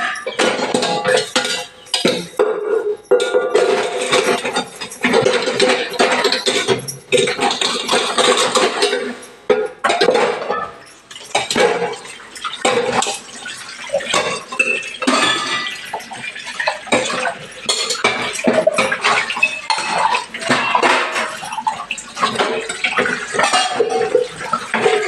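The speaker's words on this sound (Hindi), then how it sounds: "थोड़ा बर्तन धो लेते हैं, इतने सारे बर्तन हुए नाश्ते के" Breakfast dishes, pots and utensils washed at a sink, with continuous running water and frequent clinks and clatters of metal and ceramic, loud and close throughout with no talking.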